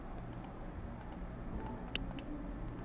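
Mouse clicks on on-screen buttons in an App Inventor memory card game, a few soft, sparse clicks over a quiet room hum with no talk.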